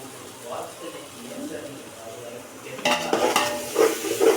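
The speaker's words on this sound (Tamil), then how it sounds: "நல்லா வெங்காயம் நல்லா கோல்டன் ப்ரௌன் ஆக்கி விட்டுட்டு" Five large onions fry toward golden brown in a pan with bay leaf, cinnamon, cloves, cardamom, stone flower and star anise, a soft sizzle giving way after a few seconds to louder stirring and scraping clatter, with a voice talking over it.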